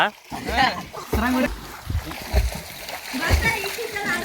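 People swim in a well, making close, irregular splashes in the water beneath loud, excited talking and shouting voices.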